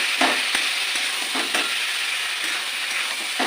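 Potatoes fry in oil in a pan for a jackfruit and prawn curry, a continuous sizzle broken by several sharp scraping stir strokes, close and clear with no talking.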